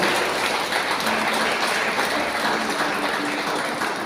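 A church congregation claps together during a worship service, a dense, continuous patter of many hands sustained for several seconds without speech.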